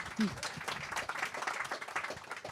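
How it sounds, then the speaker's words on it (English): Audience clapping greets author Sandra Brown at a book event, steady, moderate applause heard beneath continuing speech from a host. "but a round of applause for her"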